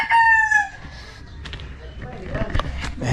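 A rooster crows loudly at the start, followed by scattered clucking and rustling from chickens scratching in the dirt nearby amid outdoor background noise.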